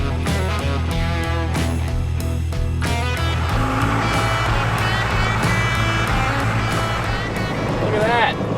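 A four-wheel-drive pickup truck runs down the road, with a steady engine drone and road rumble heard from inside the cab, and music playing over it the whole time.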